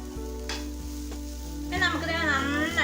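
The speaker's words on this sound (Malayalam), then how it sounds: "ഇനി നമുക്കിതിലേക്ക് മിൻസ് ചെയ്ത് വെച്ചിട്ടുള്ള ചിക്കനെ ഇട്ട് കൊടുക്കാം." Minced chicken tipped into a hot pan with chopped coriander and curry leaves, a loud sizzle swelling as the meat lands and settling into a steady fry with occasional stirring scrapes.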